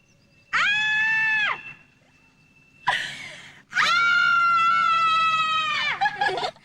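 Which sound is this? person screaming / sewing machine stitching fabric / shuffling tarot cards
person screaming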